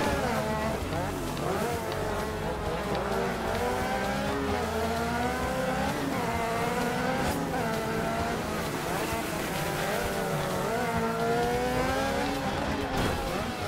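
Rally car engines in the racing game DiRT 3, a continuous high-pitched whine rising and falling through gear changes as the car accelerates, with other cars' engines nearby and a player talking over the top.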